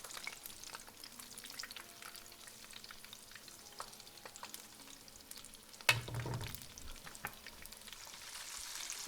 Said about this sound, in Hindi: इसी तरह आपने पकौड़ों को 5 से 10 मिनट तक हल्की आंच पे पकाना है